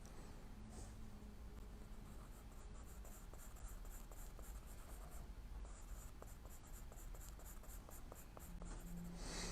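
Compressed charcoal scratches steadily across paper in a long run of dry, close, faint strokes with a rhythmic texture of short scraping ticks.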